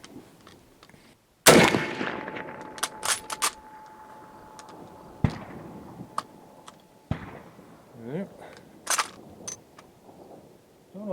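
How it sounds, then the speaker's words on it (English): A Russian rifle fires at a target 20 yards away, giving one loud close sharp crack and then a few smaller clicks and knocks from handling the gun. "Let's take a couple of shots at 20 yards"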